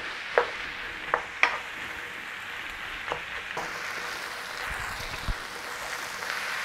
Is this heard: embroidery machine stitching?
no